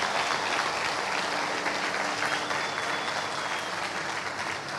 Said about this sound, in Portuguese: Se você crê nisso, dê uma salva de palmas a Jesus